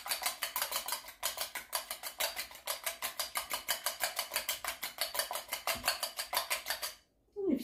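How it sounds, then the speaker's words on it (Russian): A whisk beats dough ingredients in a bowl with fast, steady strokes of metal on the bowl, a close and loud rhythmic clatter that continues without pause and then breaks off suddenly near the end. "Взбиваем."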